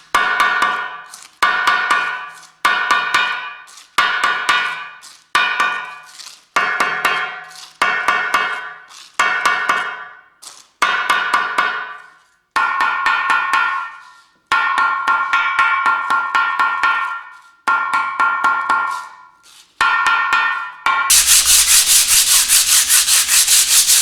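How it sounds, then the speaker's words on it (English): A 36-grit sanding disc grinding over antique 1948 Silver King tractor parts in a rhythmic series of short rasping passes, then longer sustained strokes, ending in a continuous loud roar. "Now I grabbed the 36 grit disc here, and we're just going to give this stuff some texture."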